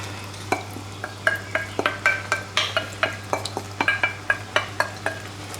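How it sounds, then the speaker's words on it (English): Mince being stirred into ragu sauce in a pan, a steady run of soft scraping, sloppy strokes roughly every quarter second, close and fairly quiet over a constant low hum, with no talking. "Just stir that in nice and gently."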